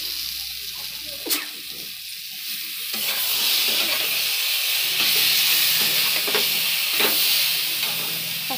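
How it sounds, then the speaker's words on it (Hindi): Jackfruit pieces fry in a loud, rushing sizzle of spicy masala for Bihari-style kathal curry, with a spoon knocking and scraping through the pan every second or so; the hiss swells midway and stays strong. "थोड़ा कटहल डाल दिए, कटहल को थोड़ा मसाला में मिलेगा ना"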